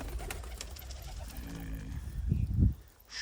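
A male pigeon coos to a blue female in a breeding loft, low soft cooing rising near the end amid background bird noise.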